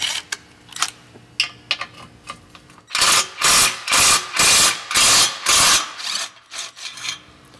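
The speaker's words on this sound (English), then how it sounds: "you can also use like an 8mm socket to get the job done" A socket ratchet loosens the brace bolts on a downpipe cap, a burst of about eight loud, close, evenly spaced clicking strokes after a few seconds of quieter scattered clicks.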